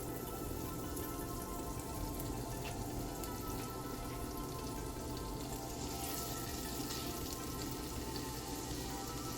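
Pork belly sizzling in a pot with olive oil and unsalted butter, a dense, continuous crackle and spatter like steady rain, close and unbroken throughout with no talking.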